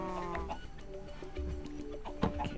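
Sheep bleat in Minecraft, several short wavering calls at close range layered over steady game background and other farm-animal noises.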